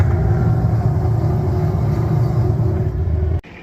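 A carbureted Suzuki Samurai engine idles just after a cold start, a loud, steady low rumble that cuts off abruptly near the end.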